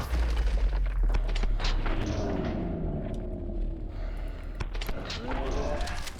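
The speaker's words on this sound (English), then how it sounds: "let's do it with a shotgun, which is a little risky" Shotgun fire in Call of Duty: Modern Warfare 2 (2009) Remastered during a hostage-rescue mission, with loud close blasts and booming rumble that thin into scattered shots and game noise.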